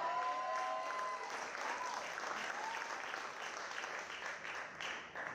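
A church congregation applauds and cheers in acclamation during a praise service, sustained dense clapping filling the room, fairly faint and distant, with scattered voices underneath.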